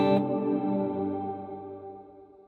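A single electric guitar chord strummed through the Blom reverb on an M-VAVE Mini Universe pedal, rich and bright at first, then ringing out in a long, smooth, gradually fading reverb tail.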